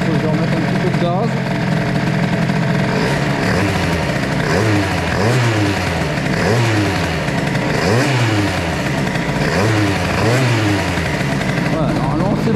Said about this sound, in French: Là, il faut que je remette un petit peu de gaz.